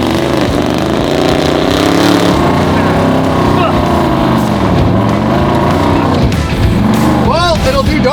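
A supercar spins donuts close by, its engine revving hard and rising and falling in pitch under loud, continuous, strained exhaust noise, with voices talking over it.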